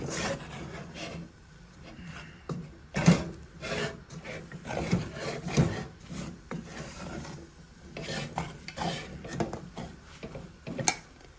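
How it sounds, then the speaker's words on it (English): Creamed mac and cheese is stirred in a pot, giving irregular scraping and rubbing strokes of a utensil against the pot, fairly faint and close, repeating in uneven bursts. "You gotta keep stirring."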